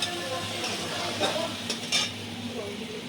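A spice paste for an omelette curry is stirred and fried in a pan, with a steady soft sizzle broken by a few scraping strokes of a utensil, close and moderately quiet, with no talking.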